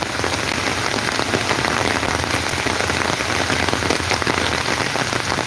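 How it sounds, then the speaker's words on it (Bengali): Heavy storm rain pours down hard and steadily near a highway in Sylhet's Sunamganj area, a dense, close hiss of drops hitting surfaces without let-up. "প্রচুর ঝড় বৃষ্টি চলে এসেছে, আপনারা আমাদের মাধ্যমে দেখেন প্রচুর ঝড় বৃষ্টি।"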